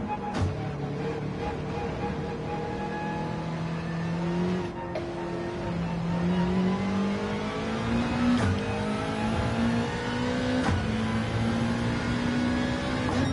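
A Subaru WRX engine in the Gran Turismo racing game revs hard and steadily, its pitch climbing through gears with brief shift dips, accompanied by faint tire squeal.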